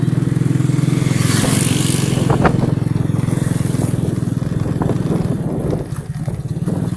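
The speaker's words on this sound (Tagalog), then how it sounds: "Kasi nahihirapan yung motor." A single motorcycle engine labours with a continuous loud, close, pulsing drone, straining steadily throughout with slight wavers near the end, and no talk is heard.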